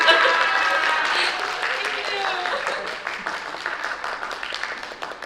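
Audience at a scholarship pageant clapping and cheering while people talk over it, with the applause tapering into scattered claps partway through.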